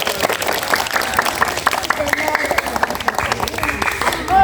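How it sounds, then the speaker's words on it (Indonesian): Children in an elementary classroom clap their hands during a storytelling and read-aloud lesson, a loose burst of small hands patting together fairly close by while an adult voice talks over it. "Tepuk tangan dulu."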